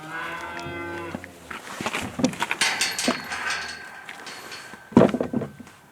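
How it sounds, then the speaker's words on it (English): A farm cow due to calve gives a long, close moo. Clatters and knocks follow, then another loud burst of lowing near the end. "So that's the cow that's supposed to be calving"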